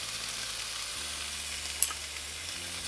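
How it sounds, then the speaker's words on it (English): Diced potatoes, seasoned with garlic salt and black pepper, sizzle steadily in hot oil in a pan, an even frying hiss with one brief sharp pop near the end and no voices. "Once our oil is nice and hot, we're going to add 3 small diced potatoes"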